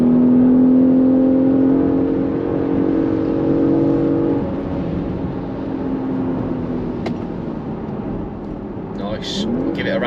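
A Porsche Macan S engine revs hard after a downshift, a loud steady drone that eases off midway as it settles, with brief road noise and a faint voice near the end.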